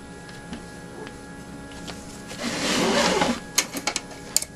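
A sewing machine stitches down a tack on a crazy quilt block, a rapid mechanical whir rising for a couple of seconds, followed by a few sharp clicks and knocks, close and fairly quiet.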